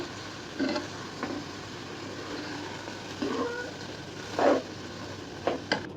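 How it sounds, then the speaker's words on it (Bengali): Rice fries with spices in a pan for vegetable pulao, giving a steady, low sizzle throughout, broken by a few soft stirring scrapes and light knocks close by. "চালটা একটু ভেজে নিচ্ছি।"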